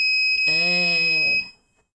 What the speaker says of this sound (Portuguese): É o alarme, né?